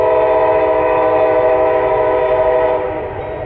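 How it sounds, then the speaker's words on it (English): A Norfolk Southern mixed freight train on the Youngstown line in Lowellville, led by a WFRX locomotive, sounds a loud, steady sustained horn chord over rumbling wheels and engine, the horn easing off slightly near the end. "Norfolk Southern 15M on the Youngstown line."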